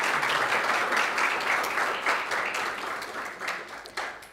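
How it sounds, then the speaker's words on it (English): Audience applause at a panel discussion on leadership and growth, a steady wash of many hands clapping, loud and close, holding for several seconds before thinning out near the end. "Round of applause, please."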